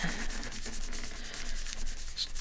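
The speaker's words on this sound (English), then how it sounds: "I'm just going to rub that down, and I'm going to keep rubbing on it for a little bit" A finger firmly rubs a sticker down onto a surface, making close, continuous scratchy friction strokes in a quick back-and-forth rhythm.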